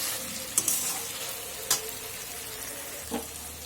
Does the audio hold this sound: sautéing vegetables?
yes